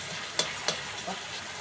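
Cooked tomatoes sizzle in a hot pan while being mashed, a steady quiet fry hiss broken by two sharp scraping knocks and a softer later tap, with no talk.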